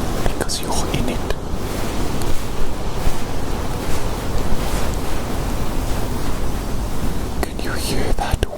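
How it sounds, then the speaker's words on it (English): Steady broadband wind rushes and roars outdoors, loud and continuous, with gusty swells throughout and no voices. "Can you hear that wind?"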